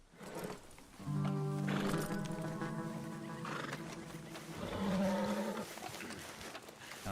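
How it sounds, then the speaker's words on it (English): A horse in the Western video game Red Dead Redemption 2 snorts and whinnies in a couple of close, loud bursts, with soft hoof movement and faint background ambience. "You must be his horse."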